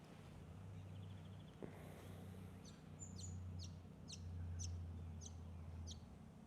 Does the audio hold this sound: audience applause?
no